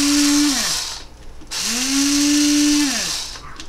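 A grinder pulses through fish food in two bursts, each a loud whirring roar that spins up, holds a steady pitch, then winds down, with a short pause between them.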